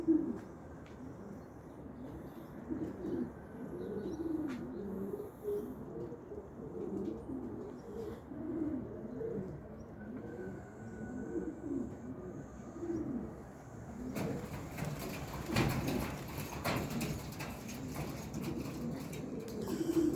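Pigeons coo in low, repeated, overlapping calls throughout, close by and fairly steady, with a rustling flutter of activity later on.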